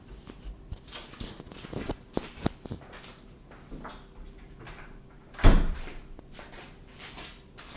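A door in a room bangs and knocks among scattered shuffling and handling noises of someone moving about, with one sharp, loud thump near the end, fairly close and without talk.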